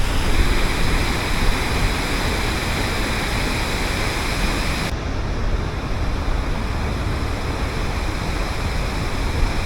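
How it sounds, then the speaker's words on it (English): A rain-swollen waterfall in North Bali roars with a dense, constant rush of falling water, loud and unbroken throughout, with no voices. "the waterfall is much better now because it's been raining a lot"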